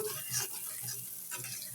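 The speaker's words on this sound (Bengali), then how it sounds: "তেজপাতা এটা এখন ভালোভাবে একটু ভেজে নিব" Chopped onion and bay leaf fry in oil in a kadai, giving a soft, continuous low sizzle with faint stirring.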